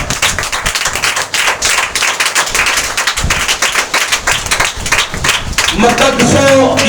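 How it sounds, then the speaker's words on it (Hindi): A church congregation claps hard and fast, a thick run of sharp overlapping hand slaps that stays loud throughout, with tonal music or voices rising near the end. "शहजादे के लिए जोरदार तालियां"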